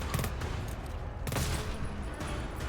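A sentry turret in the video game GTFO fires fast and without a break, the rattle dense and steady, with one sharper crack partway through.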